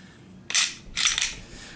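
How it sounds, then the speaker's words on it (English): A Smith & Wesson M&P 9mm pistol gives two sharp, close metallic clicks about half a second apart as its trigger resets during cycling, over a quiet background. "the reset was more audible on it, and just to prove it, as you can see, the gun fires, it cycles"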